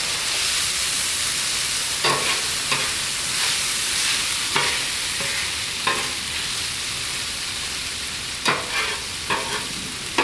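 Al pastor meat sizzles loudly on a Blackstone griddle. A continuous hiss is punctuated by several sharp scrapes and clacks as the meat is stirred and pushed around the hot surface.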